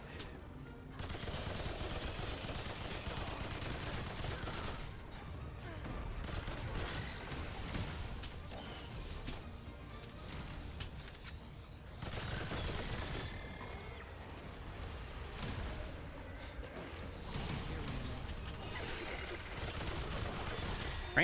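Machine gun fire in a video game, steady rapid bursts dense across the clip with brief lulls near five and eleven seconds, close and fairly loud.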